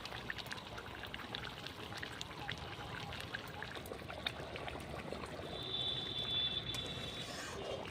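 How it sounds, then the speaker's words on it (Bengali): Fried eggs go into a boiling spinach curry gravy with a steady, close sizzling bubble that runs throughout and swells slightly near the end, with no talk. "ঝোল ফুটে গেছে, এখন ভেজে রাখা ডিমগুলো দিয়ে দেবো।"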